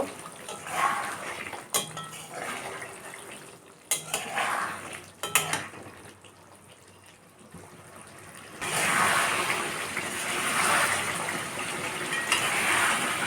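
Goat meat being stir-fried with tomato in a pot, with repeated metal spoon clanks and scraping against the pot between stretches of sizzling; the frying hiss grows louder and steadier toward the end.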